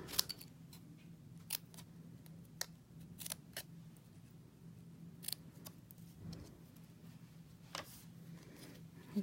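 Scissors snip through card for Easter and spring cards, a scattering of crisp, close, quiet cuts at irregular intervals over a soft room hush.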